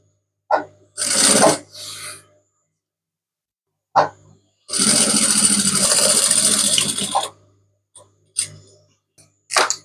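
Sewing machine running a half-inch seam on a handmade travel bag, in short bursts and one longer steady run of several seconds, with brief pauses and faint handling noises between.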